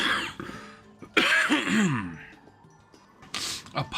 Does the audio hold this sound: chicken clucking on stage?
no